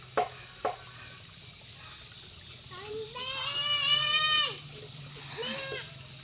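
A goat bleats outdoors on a Philippine farm: two short sharp knocks come first, then one long wavering bleat and a second shorter bleat, moderately close, with no speech over them.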